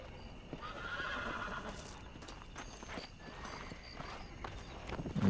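Horse in the video game Red Dead Redemption, heard as steady clip-clop hoofbeats and a whinny as the animal approaches, with game ambience behind and a louder burst at the end.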